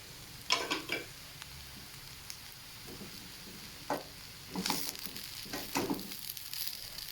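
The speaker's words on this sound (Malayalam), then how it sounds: "ഇനി ഇതിലേക്ക് നമുക്ക് സ്പ്രിംഗ് ഒനിയൻ്റെ ഗ്രീൻ ഇട്ട് കൊടുത്ത് ഒന്നുകൂടെ ഒന്ന് നന്നായി ഇളക്കാം." Chicken fried rice with spring onion greens being stir-fried, with soft sizzling under several sharp scraping and tossing strokes of a spatula against the pan, arriving in irregular bursts.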